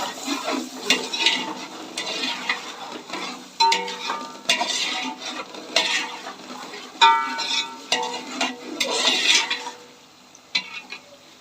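Camel meat with cumin, black pepper, bay leaf and cinnamon stirred in a pot, a close sizzling hiss broken by scraping and clattering spoon strokes.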